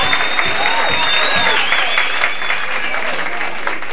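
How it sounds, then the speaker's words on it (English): Loud, dense applause from a crowd at a live music performance, steady clapping throughout with a shrill whistle riding on top. "give them a great big round of applause"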